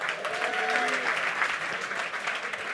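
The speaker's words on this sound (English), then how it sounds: "Give Tristan a round of applause" Applause fills a sales seminar hall in Nashville as a crowd claps steadily and loudly for a volunteer called on stage, with a few voices and cheers rising above the clapping.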